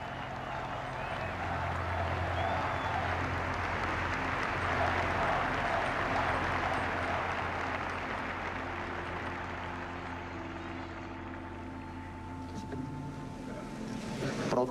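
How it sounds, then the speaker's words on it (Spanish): Sustained, dense applause fills a large hall at the 1988 Mexican presidential inauguration of Carlos Salinas de Gortari, with outgoing president Miguel de la Madrid joining in. It stays steady and loud throughout, then thins slightly near the end. "Aplaude también el propio presidente saliente Miguel de la Madrid."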